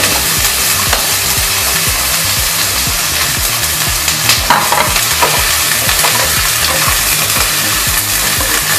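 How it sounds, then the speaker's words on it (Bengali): Paneer frying lightly in hot oil, a loud, steady, close sizzle with some stirring scrapes running throughout, and no voices. "এবার গরম তেলের মধ্যে পনিরটা আমি হালকা একটু ফ্রাই করে নিলাম।"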